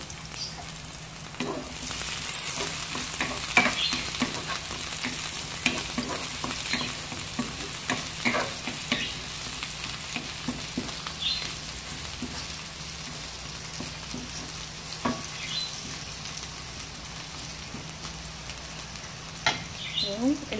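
Garlic and onion sauté in a pan with a steady broadband sizzle, broken by frequent clicks and scrapes of stirring, close and continuous for the whole stretch with no talking.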